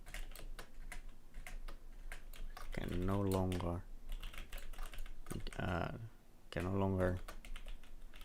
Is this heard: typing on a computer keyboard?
yes